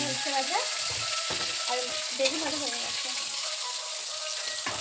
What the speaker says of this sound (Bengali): রান্না করছে পটল ভাজা দেখো মজমচে পটল ভাজা ভাজছে এখন